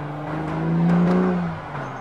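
BMW Z4 M40i engine revving hard under acceleration, a close, steady growl that swells to a peak midway and then eases back.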